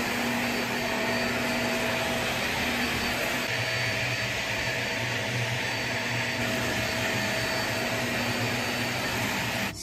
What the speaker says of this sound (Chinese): 然后自己拿吸尘器来吸一吸。